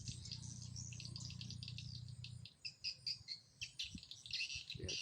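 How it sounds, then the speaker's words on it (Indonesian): Birds feed around a lamp at night, giving faint, scattered high chirps over a steady buzz of crickets and insects. "Burung yang lewat tuh singgah cari makan."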